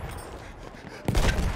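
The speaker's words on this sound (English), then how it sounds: "Enemy machine gun over there!" Enemy machine-gun fire erupts in a multiplayer shooter on the Achi Baba map, a sudden loud, rapid burst that follows a quieter stretch of game ambience.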